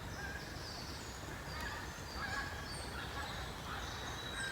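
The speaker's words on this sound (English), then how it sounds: "Geese echoing around all the trees" Geese honking outdoors at a wooded bottle-digging site on a dark day, faint distant calls echoing among the trees over a soft steady background hiss.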